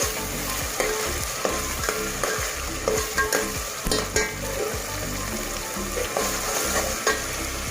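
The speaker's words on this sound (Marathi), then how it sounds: "वाटण सुद्धा व्यवस्थित आपल्याला फ्राय करून घ्यायचं आहे" Agri-style vatan spice paste for stuffed crab curry fries in a hot pan, giving a steady loud sizzle and crackle with repeated scraping stirs of a spoon against the pan throughout.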